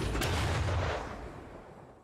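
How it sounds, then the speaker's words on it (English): A character in the video game Metroid Prime 4 Beyond is launched out of a cannon, giving a loud, deep booming blast that rumbles and then fades away over about two seconds. "I get shot out of this gun."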